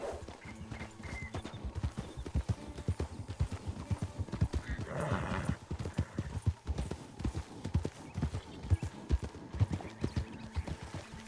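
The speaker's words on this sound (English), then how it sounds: "There's another horse here." Horse hooves clop steadily on the ground in the Red Dead RP game world, a continuous rhythmic patter with a brief whinny midway, close and fairly loud.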